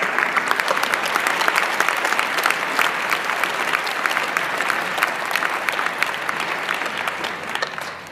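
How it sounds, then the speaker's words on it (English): An audience applauds Richard Blanco at PoCC 2016 with a dense, steady wash of many hands clapping, loud and sustained throughout before tapering slightly at the end. "Let's give him another round of applause."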